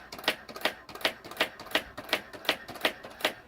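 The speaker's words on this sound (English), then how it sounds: "It will type it twice is what you're hearing there." Brother AX 350 electric typewriter typing a steady run of about ten evenly spaced key strikes, each a crisp, close mechanical clack with nothing else heard.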